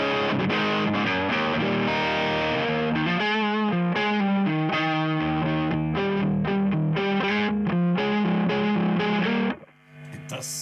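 Electric guitar played through a Klon overdrive pedal, with chords and single notes strummed in a warm, mildly distorted tone for about nine seconds before the sound drops out; no one talks.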